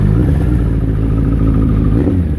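A motorcycle engine idles steadily and close after a fuel-screw adjustment to its idle mixture, with a low, even, slightly lumpy rumble throughout.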